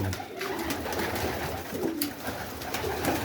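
Soft, low cooing from several pigeons, repeated murmurs over a steady background hum, fairly close.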